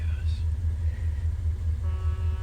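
Car driving the road around Crescent Lake, a steady heavy low rumble of engine and tires heard from inside the cabin, with faint voices and a brief tonal whine near the end.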